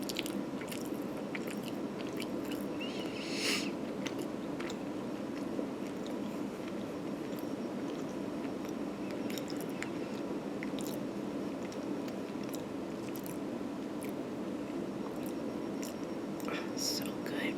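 Close, quiet chewing and soft wet bites of pho noodles and broth, with occasional slurps and crunchy bites over a steady hush, and whispered speech at times.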